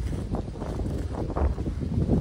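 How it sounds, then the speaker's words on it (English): Gusty wind buffets the microphone with a low, rumbling roar that rises and falls throughout, close and fairly loud. "It just became real windy."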